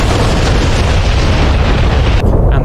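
Bombs from an AJS37 Viggen toss-bombing run explode on a runway in DCS World: a loud, continuous rumbling roll of blasts merges into one sustained boom that cuts off abruptly near the end.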